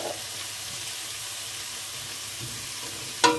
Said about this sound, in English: we're just going to brown the onions off in there